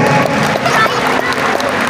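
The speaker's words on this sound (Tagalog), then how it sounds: "Aba, napakahina na palakpak ng SK." Thin, scattered applause from an audience at an inter-barangay senior division muse pageant, a steady wash of crowd noise with a few faint voices and no strong clapping peaks.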